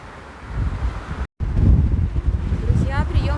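Strong gusting wind roars and buffets the microphone on a cold, windy day in Gelendzhik, a loud continuous rush that drops out briefly and then returns.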